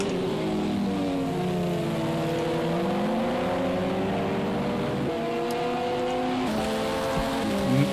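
LMP2 and GTE race cars in Project CARS 2 lap Brands Hatch in a multiclass race, with several overlapping engine drones held steady throughout and pitch steps as gears shift.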